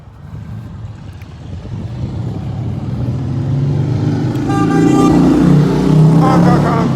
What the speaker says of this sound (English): He drove by me right there, and he went honk, honk, honk with his loud ass motorcycle.